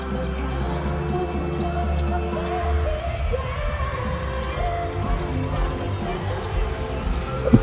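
A concert crowd at a show in Toronto screams and cheers in a dense, sustained roar, with a louder burst near the end.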